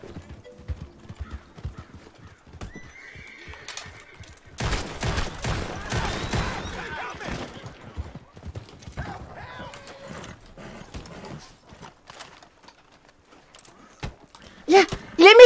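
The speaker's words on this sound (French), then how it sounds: "Oh, il a appelé son cheval." In Red Dead Redemption 2, a called horse gallops up with rapid clip-clopping hooves that build and fade, a whinny and game gunfire mixed in, with talk in the clip.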